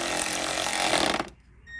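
A power tool runs in a short, rough whirring burst while tightening a 10 mm bolt on a windshield washer fluid pump of a 2006 Chevy Colorado, then cuts off abruptly into near silence.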